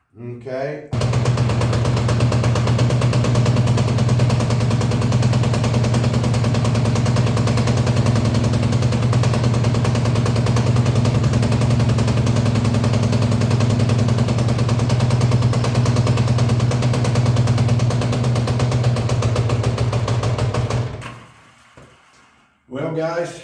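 Rough, uneven idle of a 1983 Honda Goldwing GL1100 engine firing on only one or two cylinders, a loud steady low chugging drone with ragged pulses lasting about twenty seconds before cutting off abruptly.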